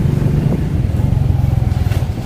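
A parked motorcycle's engine runs close by with a steady, low, throbbing idle that pulses evenly throughout, with no voices over it.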